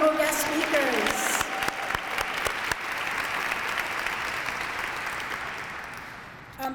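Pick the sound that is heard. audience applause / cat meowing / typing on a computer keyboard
audience applause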